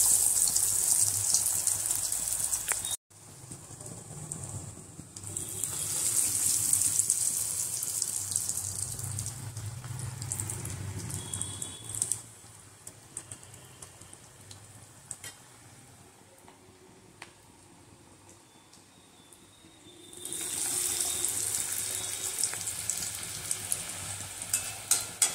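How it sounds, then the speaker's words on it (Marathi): Breaded bread rolls deep frying in oil: a steady bubbling sizzle heard up close, louder at the start and again near the end, with a quieter middle and no talk. "साधारणतः अशा गुलाबीसर रंगावर ब्रेड रोल तळावे म्हणजे ते क्रिस्पी लागतात."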